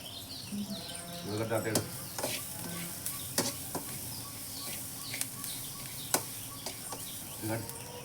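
Winged termites fry and sizzle in a pan with a steady crackle and occasional scraping stirs, close by, while people talk intermittently and birds chirp faintly in the background.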